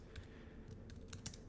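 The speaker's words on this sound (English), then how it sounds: "Once again, typing on a live Zoom" Quiet keystrokes on a computer keyboard while filling in a donation form during a live Zoom session, a short irregular run of light clicks at low level with no speech.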